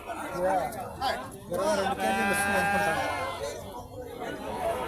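Sheep and goats bleat at a busy livestock market, the loud wavering calls mixed with nearby chatter and people talking.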